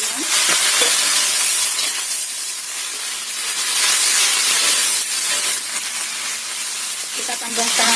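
Tofu hits a hot pan in a simple stir-fry and sizzles with a loud, steady hiss of frying and steam that carries on without a break.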